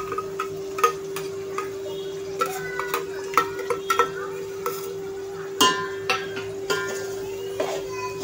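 Ground onion masala paste roasting in oil over medium-low flame, with a steady soft sizzle broken by repeated spoon scrapes and clinks against the pan, close and fairly loud.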